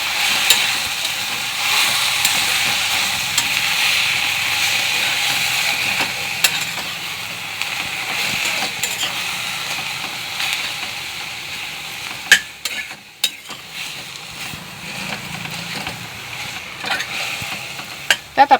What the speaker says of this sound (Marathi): आता आपण चवीनुसार मीठ घालून घेऊ। एक 2 मिनिटं परतून घेऊ।